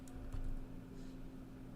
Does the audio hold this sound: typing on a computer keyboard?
yes